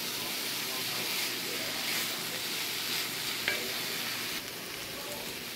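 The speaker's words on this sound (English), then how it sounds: "Alrighty, that's warmed up nice. Sizzling a little bit." Chicken and mushrooms sizzle steadily in a hot pan, a continuous crackling hiss with faint stirring, the sound dipping slightly near the end.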